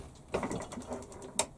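Lathe tailstock handle winding forward to start a thread, a short series of close mechanical ratcheting clicks ending in a sharper click.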